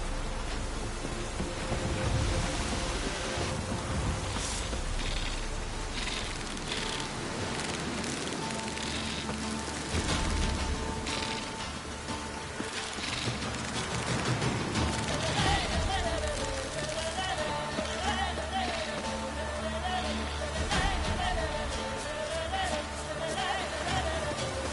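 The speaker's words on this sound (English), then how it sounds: "Looks like rain." Rain falling in the video game The Witcher 3, a steady hiss of pattering drops under game music and ambient tones, continuous throughout.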